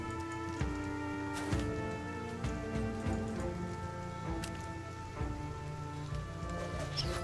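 Rain falling in the video game Battle Brothers, a soft continuous patter with scattered sharper drops over a faint sustained musical drone, no talking.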